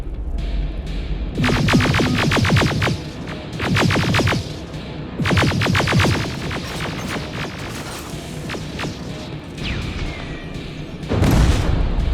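Rapid bursts of automatic gunfire in the Terminator Resistance video game, several loud rattling volleys separated by short pauses, with a deep throbbing boom underneath.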